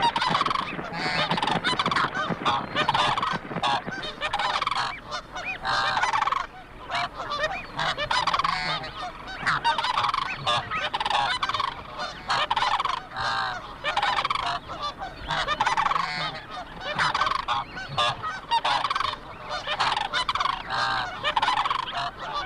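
Snow geese honk loudly and continuously in North America while chasing cranes from their territory, a dense chorus of harsh overlapping calls close by, with brief lulls.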